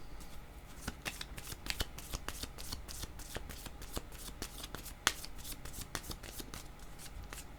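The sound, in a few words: shuffling tarot cards to draw another card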